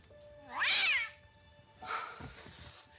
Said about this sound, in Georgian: სულელი კატა